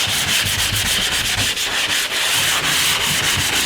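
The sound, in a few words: hand sanding drywall mud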